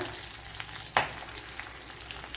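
Chopped ginger, green chillies and garlic fry in hot oil for a carrot curd dish, a close steady crackling sizzle with a sharp clatter of a stir or added ingredient partway through.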